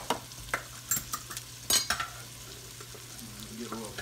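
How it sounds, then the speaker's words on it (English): Grease sizzles steadily in a pan with flour added for pot roast gravy, with a few sharp scraping clicks early on and a constant crackling hiss throughout, no voices. "let's get that all sizzling off there."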